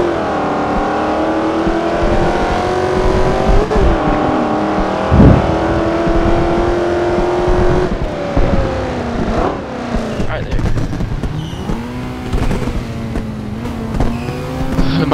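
Street race cars in Forza Horizon 2, including a 302 Foxbody and a GTO, rev hard and shift repeatedly. The engine notes rise and drop loudly, with brief tire squeals and cars passing in the busier second half.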